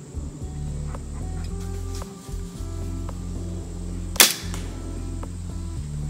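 A hand-drawn PSE Fang crossbow fires with a single sharp snap that stands out against a low steady background hum.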